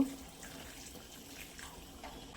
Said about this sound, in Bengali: এবার এতে গরম জল দেব।